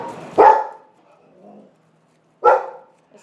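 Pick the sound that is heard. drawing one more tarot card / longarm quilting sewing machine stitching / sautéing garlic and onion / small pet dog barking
small pet dog barking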